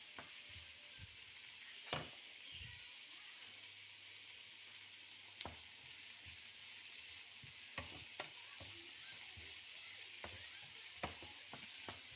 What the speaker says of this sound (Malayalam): നെയ്ക്കകത്ത് നല്ല ചെറിയ ഉള്ളി നല്ലോണം വഴക്കിയെടുക്കണം